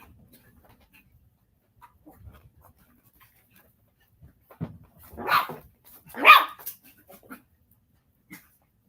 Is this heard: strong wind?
no